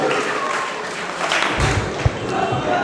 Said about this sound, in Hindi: भरपूर तालियां बजा करके इस्तेकबाल करें।